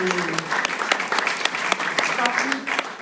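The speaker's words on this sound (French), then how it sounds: "je pense que vous pouvez applaudir tout le monde" Audience applauding at a French film event, dense steady clapping throughout with faint voices mixed underneath.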